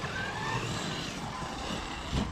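A Traxxas XRT RC monster truck on its stock motor drives past, a fairly faint, steady electric whine with tyre noise and a brief louder surge near the end, with no voices.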